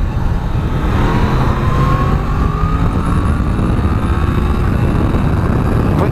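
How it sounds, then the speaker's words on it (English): A 2017 Yamaha MT-10 SP motorcycle pulling hard at full throttle with quick-shifter upshifts, loud rising engine tones over heavy wind rush, heard close from the rider's position. "that's the first time that I've attempted to open the bike up at all, and the thing absolutely flies"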